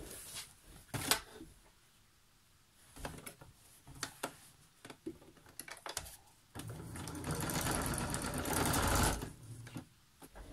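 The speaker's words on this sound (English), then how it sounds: "go ahead and stitch down the other long side" Short bursts of a sewing machine stitching the side seam of an upcycled grocery bag, mixed with clicks and fabric handling, then a longer steady run of stitching near the end.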